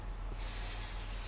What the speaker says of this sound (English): So it's easier to use the spray, so I'm just going to shake the can a little and